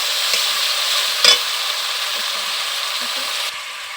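A beaten mixture stirred in a hot frying pan with cumin seeds, a loud continuous sizzle with a spatula scrape now and then, close and steady.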